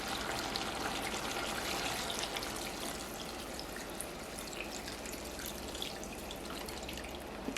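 Water pours gently and steadily into a pot of simmering Jamaican curry chicken back and chicken feet, a soft continuous trickle and splash, fairly quiet and heard alone.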